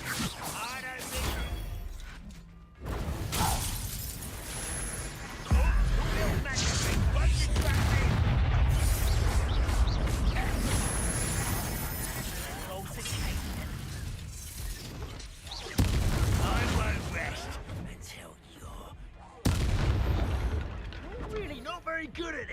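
Booming spell explosions and crashing magical effects in a Harry Potter wizarding video game, arriving in loud bursts around 6, 16 and 20 seconds amid continuous game noise and a speaking voice.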